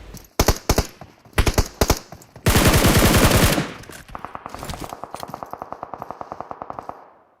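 Gunfire in PUBG during a live esports tournament finals: a few separate bursts of rapid shots, then a loud dense volley, followed by a long steady string of quick automatic rounds, sharp and close with no talk.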